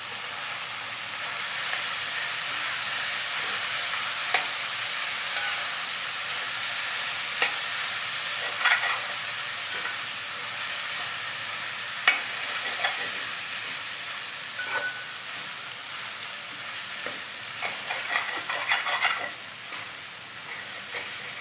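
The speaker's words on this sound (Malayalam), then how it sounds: "എണ്ണയ്ക്കകത്ത് ഇവിടെ നന്നായിട്ട് മൊരിഞ്ഞ് വരട്ടെ കേട്ടോ" Beef sizzles steadily in hot oil, a constant bright hiss with occasional louder pops and crackles, close by and with no talking.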